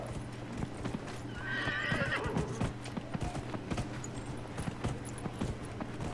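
Horse in the Dragon Age Inquisition video game, steady clip-clopping hooves at a trot with a whinny partway through, heard over a low game soundscape with no talk.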